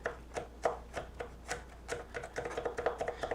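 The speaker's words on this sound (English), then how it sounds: "that's what I want to use to cut through the garlic" A knife chops garlic on a cutting board in a steady run of sharp up-and-down taps, close and fairly loud, speeding into a quicker rhythm toward the end with no talking.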